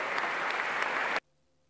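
A crowd at a political gathering claps together in a dense, loud burst. The clapping holds steady, then stops abruptly, and near silence follows.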